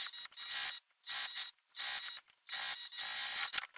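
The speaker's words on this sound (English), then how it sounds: "you're just going to baste around the sides and the bottom" Sewing machine basting around a slip pocket and lining for a sling bag, running in four short bursts of rapid mechanical stitching with brief pauses between, close and clear, with no voices.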